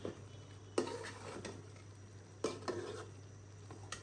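Beef tripe with whole garlic cooking in a pot, a faint simmering bubble under a few sharp clinks and scrapes of a spoon stirring against the pot, spaced a second or two apart.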